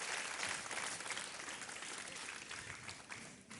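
A TV quiz-show studio audience applauds a contestant on Kaun Banega Crorepati. The clapping is dense and continuous but faint and distant, with a hint of voices mixed in beneath it.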